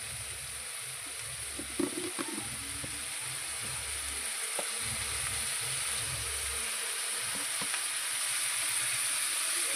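Tomato with chili powder fries in a pan under a steady, moderate sizzle, with a few soft stirring knocks and low bubbling early on.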